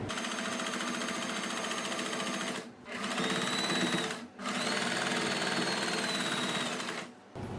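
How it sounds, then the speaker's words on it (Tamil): A sewing machine stitches the side edge of lace on a puff sleeve, running in a steady close whir that stops twice briefly before resuming. "லேஸோட இந்த சைடு ஓரத்தையும் தைச்சிப்போம்."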